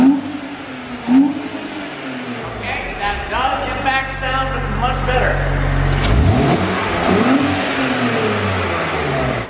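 A straight-piped BMW Z4 with its airbox disconnected revs up hard, the engine climbing to a loud sustained roar before dropping back, with people talking at the start and after.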